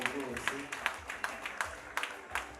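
Wedding guests clap in a steady, rhythmic beat, roughly three claps per second, sharp and fairly close, with a voice talking over them throughout.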